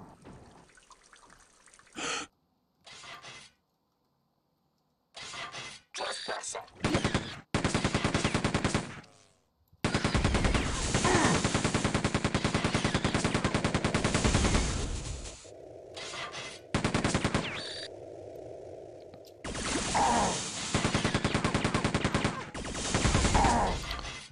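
Rapid automatic weapon fire from Quake 2 rattles in loud, sustained bursts separated by short gaps and quieter stretches, with a few isolated single shots early on and no talking.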